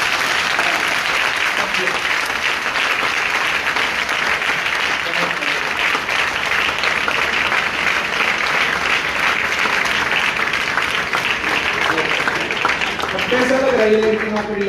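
Loud, sustained applause from a large audience at a public event honoring a woman's selection to the Haryana Police, dense clapping running steadily throughout without pause.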